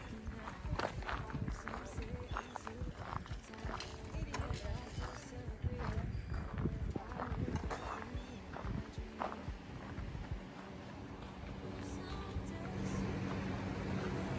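Horses in a stable barn at Luella Stables in Griffin, Georgia, with steady hoof clip-clop and shuffling mixed with barn bustle, under nearby people talking.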